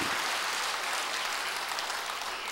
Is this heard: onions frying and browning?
no